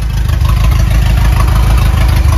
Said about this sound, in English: If you listen to it now, that's not extremely loud because I built my own exhaust system for the first time ever.